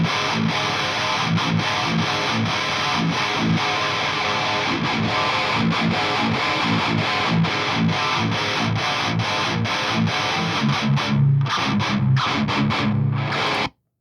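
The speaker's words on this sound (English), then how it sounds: "it gets this kind of phasey, cool sound that was made famous on Clayman by In Flames" Phasey, distorted electric guitar run through a Cabinetron IR loader, emulating the Clayman-era In Flames tone, riffing loud and continuously for about thirteen seconds before cutting off abruptly.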